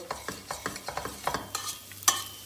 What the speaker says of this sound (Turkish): Şöyle bir daha karıştıralım.